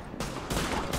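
Gunfire in The Division rattles in dense bursts during a city firefight, loud and close, with no talking.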